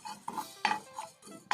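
Dry coconut, peanuts and cumin tossed in a pan while roasting, heard as a series of close, sharp scraping and clinking stirs of a utensil against metal, several quick strokes without any talk.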